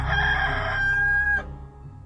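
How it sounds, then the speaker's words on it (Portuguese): A rooster gives one loud, close, drawn-out cock-a-doodle-doo crow that rings clearly and then cuts off, leaving quiet low background. "no mesmo instante cantou o galo"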